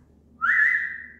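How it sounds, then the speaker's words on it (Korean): One clear human whistle, a single held tone that swells and slowly fades, close and alone over quiet low room noise. "저희 휘파람 잘 불고"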